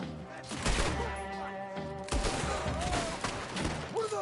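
Video game gunfire rattles in quick bursts of thumping shots amid music and ambient noise, with brief voices heard between the volleys.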